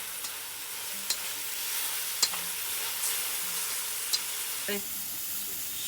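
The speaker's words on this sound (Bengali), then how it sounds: "চিংড়ি সুটকিটাও একটু এর মধ্যে ভাজা ভাজা করে নিলাম" Dried shrimp fry in a pan with a steady, close sizzle and hiss, broken by a few sharp spatters and faint stirring clicks. Nobody talks.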